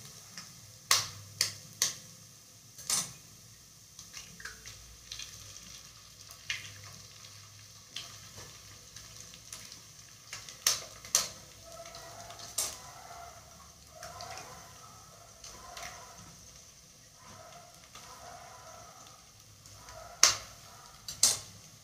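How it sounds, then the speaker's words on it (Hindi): Eggs cook in a pan for egg bhurji with a low, steady sizzle, broken by sharp ticks and scrapes of a utensil stirring against the pan at irregular intervals; no talk. "अब इसमें हम एग डालेंगे।"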